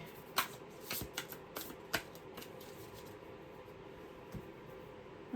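A deck of tarot cards shuffled and split by hand, giving a few soft, quick riffling flutters and papery snaps, faint against a quiet room.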